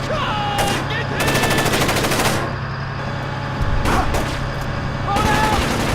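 Gunfire in Splinter Cell: Chaos Theory: bursts of automatic fire come in clustered volleys, loud and close, with in-game shouting between the bursts.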